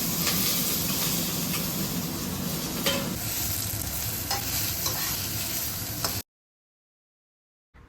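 Potatoes are stirred into sautéed onions in a frying pan, giving a loud, steady sizzle with scraping stir strokes throughout, then cutting off abruptly to silence near the end.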